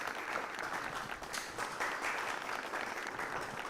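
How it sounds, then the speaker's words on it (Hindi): An audience at a farmers' event in Hoshiarpur claps as an elderly farmer receives an award cup, a sustained, fairly distant round of applause with steady density throughout. "जोरदार तालियां बजा दी"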